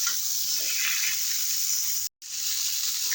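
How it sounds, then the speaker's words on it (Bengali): Pieces of rohu fish and raw banana sautéing in a pan for a light curry, a steady close sizzling hiss with faint stirring underneath, broken by one brief cut to silence. "কলা দিয়েও আরো দু তিন মিনিট কষিয়ে নেবো"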